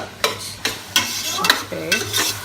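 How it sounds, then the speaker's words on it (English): Onions frying in a pan are stirred in a quick, regular rhythm, with about five scraping strokes over a continuous nearby sizzle. "And also you should keep stirring. You shouldn't stop until the onions are cooked."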